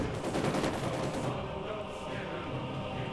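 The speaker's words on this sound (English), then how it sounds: "Assault rifles and MP40s doing what they can" Assault rifles and MP40 submachine guns fire in a dense, continuous battle din in Company of Heroes 2, a World War II strategy game, with overlapping bursts and no talk.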